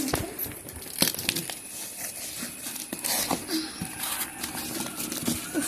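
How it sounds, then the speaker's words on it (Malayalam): A delivered package being unboxed, its plastic and paper packaging crinkling and tearing in a continuous rustle with sharp crackles, close up. "അപ്പൊ നമുക്ക് ഇതൊന്ന് അൺബോക്സ് ചെയ്യാം"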